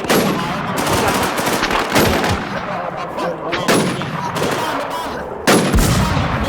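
Gunfire in the shooter game WarZ II, with several sharp, loud bursts of shots spaced a second or two apart, each ringing briefly before the next burst.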